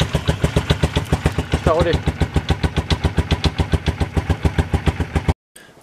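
A KXR 250 quad engine starts after a battery recharge and settles into a fast, steady idle of evenly spaced putters, loud and close. A voice speaks briefly partway through, and the sound cuts off abruptly near the end.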